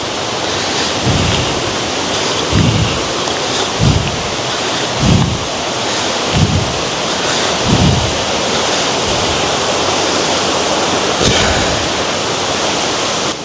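Rushing water at Daranak Waterfall near Blue Lagoon in Tanay, Rizal, a steady broadband roar with no pause, broken by a string of low thumps that could be footsteps or wind buffeting.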